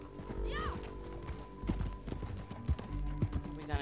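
Rhythmic hoofbeats of a horse clip-clopping along at a quick pace in Red Dead Redemption 2, with scattered voices and game background sounds around them.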